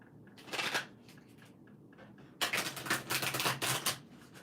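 Tarot cards being shuffled, crisp riffling bursts of card edges flicking together, one short riffle early on, then a longer, louder run of rapid flutters near the microphone.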